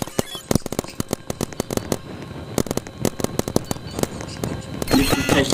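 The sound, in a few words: gunshots from a video game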